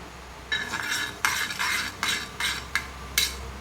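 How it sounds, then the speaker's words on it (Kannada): Cashews frying in ghee, a soft sizzle broken by a series of bright metallic scrapes and clinks of a spoon stirring in the pan, about seven in quick succession. "ನಂತರ ಸ್ವಲ್ಪ ಗೋಡಂಬಿಯನ್ನು ಹಾಗೆ ದ್ರಾಕ್ಷಿಯನ್ನು ಹುರಿತೇನೆ"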